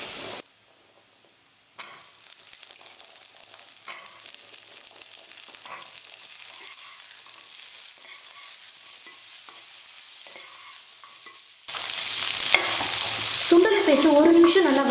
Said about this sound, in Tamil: சுண்டலை சேர்த்து 1 நிமிஷம் நல்லா வதக்கினதுக்கப்புறமா